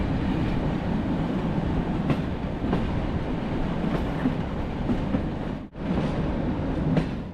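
A passenger train pulls into Budapest Keleti railway station in Hungary, giving a steady, close rumble of rolling wheels and carriage noise with faint rhythmic clicks and a brief dip near the end, with no voices.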